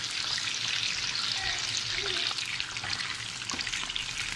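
Chicken pieces fry in a pan for a homemade KFC-style fried chicken, giving a steady, close hiss and crackle that holds evenly throughout with a few brief pops, no voices over it.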